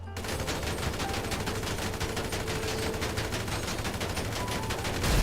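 Rapid, dense gunfire aimed at the wheel of a Vapid Dominator GTX muscle car in GTA 5, a steady stream of close, loud shots with no pauses and a heavier burst at the end.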